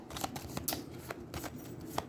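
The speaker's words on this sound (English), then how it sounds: "Oh, I'm shuffling these." Cards from the Aeons End card game are shuffled by hand, giving soft papery riffles and flicks in quick irregular bursts, close and fairly quiet.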